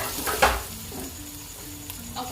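Shredded cabbage dropped into hot oil for a half-cooked base, a brief clatter of stirring followed by a soft continuous sizzle close by.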